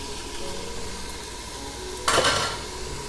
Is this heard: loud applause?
no